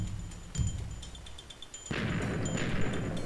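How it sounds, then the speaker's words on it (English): Minecraft TNT blasts go off in a game, a sharp burst followed later by a longer rumbling explosion, with faint crackling pops and a high tone in the background. "I really need to remember to turn off the TNT after I blow it up."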